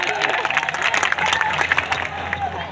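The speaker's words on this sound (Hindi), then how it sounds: "ताली थोड़ी मिलके बजा दो।" An audience applauds during a Hindi poetry recital on stage, with dense, continuous clapping from a crowd, fairly loud, mixed with some voices.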